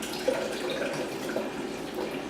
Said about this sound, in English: And I'll pour myself a little bit.